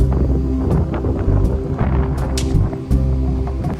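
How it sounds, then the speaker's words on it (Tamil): Strong wind blows across the microphone aboard a ship leaving Chennai at night, a loud, steady roar with gusty buffeting throughout and no speech. "உள்ள கொஞ்சம் மூவாளத்துல செம்மையா காற்று அடிக்குதுங்க"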